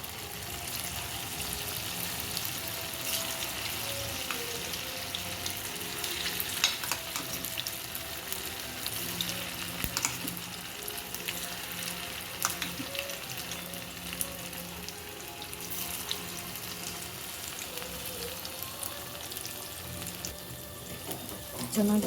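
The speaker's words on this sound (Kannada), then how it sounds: "ಚೆನ್ನಾಗಿ ಗೋಲ್ಡನ್ ಬ್ರೌನ್ ಬರೋದಂತ ಚೆನ್ನಾಗಿ ಫ್ರೈ ಮಾಡಬೇಕು" Baby corn deep-fries in a pan of oil with a steady, even hiss that runs unbroken for over twenty seconds, marked by occasional faint clinks.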